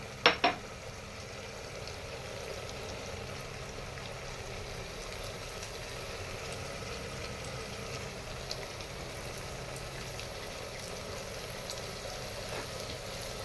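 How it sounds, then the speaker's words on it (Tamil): Onions and tomatoes with a little salt being sautéed in a pan give a steady, low sizzle and frying hiss throughout, with a couple of sharp utensil clinks against the pan at the very start. "இப்போ வதக்கி விட்டுக்கலாம்."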